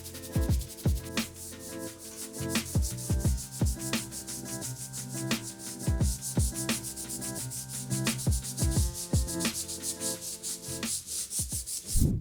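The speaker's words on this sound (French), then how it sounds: "Le ponçage des gorges est désormais terminé" A power sander works over old ceiling mouldings in a steady rhythm of rasping strokes, close and continuous throughout.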